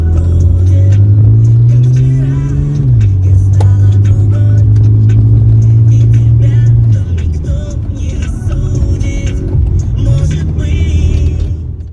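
A Mercedes diesel car engine running on used motor oil idles and revs, a loud low rumble that rises, drops and swells again, with light talk faintly under it.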